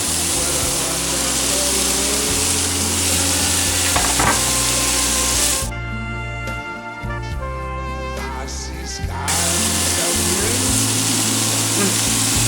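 Vegetables and lettuce stir-frying in a pan for Chinese-style idiyappam, a loud continuous sizzle with scraping stirring strokes, briefly quieter midway before the frying noise returns at full strength.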